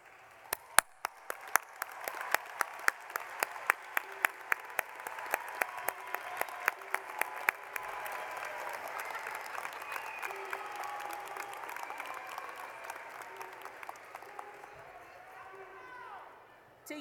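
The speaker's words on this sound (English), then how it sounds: "Fellow graduates, please stand and give a round of applause to your supporters." Applause at a University of Phoenix commencement ceremony in Central Florida, opening with sharp close hand claps that spread into broad sustained clapping from a large standing crowd, with some voices mixed in, fading toward the end.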